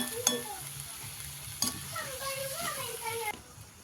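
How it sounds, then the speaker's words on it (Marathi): Home-made chicken masala being stirred in a pan for a dry chicken dish, with soft scraping strokes and a faint sizzle throughout, a couple of sharper utensil knocks, and quiet background music. "आता थोडंसं हलवून घेऊ थोडं झाकून घेऊ"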